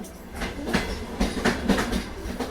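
A night train clatters along the rails in a steady rhythmic clickety-clack of wheels over track joints, with a continuous rumbling background and no voices.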